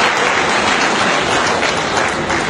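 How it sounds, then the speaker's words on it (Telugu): A crowd at a public meeting clapping: loud, dense, continuous applause filling the whole stretch, with no pauses. "మోగించండి మీ చప్పట్ల జనక జనక"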